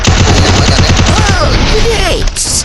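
Rapid automatic gunfire from a UMP submachine gun in a first-person shooter game, a loud continuous burst of closely spaced shots with a few whooshing effects near the end, over faint game ambience.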